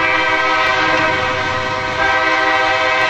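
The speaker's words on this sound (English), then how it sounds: "I heard the whistle of the train." A train whistle blows loud and steady, a sustained harmonic tone that holds for several seconds over a continuous rail rumble with no pause or talk.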